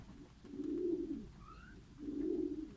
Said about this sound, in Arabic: يعني زي ما شايفين الطيور قدامكم